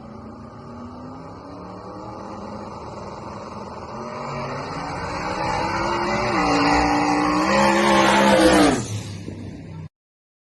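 Drag racing cars at a Sallisaw street race roar toward the finish line, the engine note climbing steadily louder over several seconds before cutting off abruptly as they pass.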